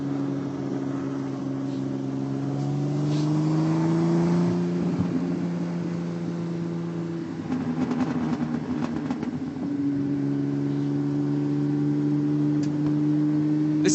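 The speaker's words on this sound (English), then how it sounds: "This car, this D Type that I'm riding in, is a recreation, a faithful recreation D Type." On-board engine note of a Jaguar D-Type recreation race car built on a Jaguar chassis, a strong steady harmonic drone that rises and falls with gear changes and throttle lifts, continuous through the run with no speech.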